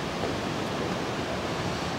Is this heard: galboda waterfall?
yes